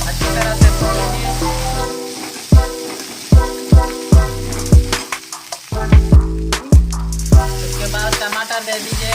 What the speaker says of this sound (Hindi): अदरक पेस्ट और लहसुन को थोड़ा देकर उसमें भून लीजिए, अच्छी तरह से भून लीजिए।